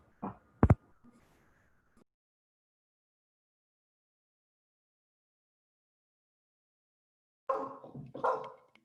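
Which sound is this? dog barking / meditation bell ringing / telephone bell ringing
dog barking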